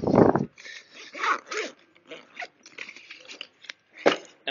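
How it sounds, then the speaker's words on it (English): Zipper drawn shut on the carry bag of a Darche XL100 stretcher bed, a series of short close rasping bursts with brief pauses between pulls. "Zipping your bag up."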